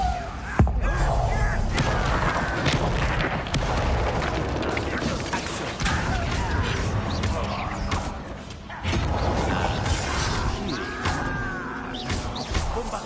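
Bombarda blasting spell in Hogwarts Legacy combat, a loud, dense rumble of magical blasts and impacts layered with crashing effects, continuous over several seconds with brief swells and dips.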